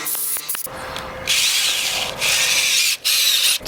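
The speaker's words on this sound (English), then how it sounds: "go ahead and get a couple of screws in here" A power drill drives screws into wood for garage storage shelves, with three sustained high whirring runs separated by short pauses, close and loud.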